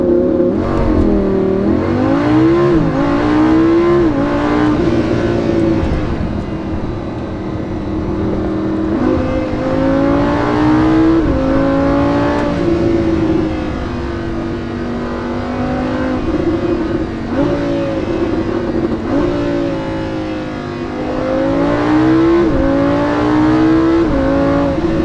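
A Lamborghini Huracan engine revving while driving, a loud, close, throaty roar that rises and falls through repeated accelerations and gear changes over sustained cabin-level engine drone, with no talking.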